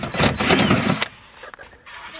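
Making a hole in the body of a VW Polo for a subwoofer ground wire, heard as a loud, close burst of drilling that cuts off after about a second, followed by quieter scraping.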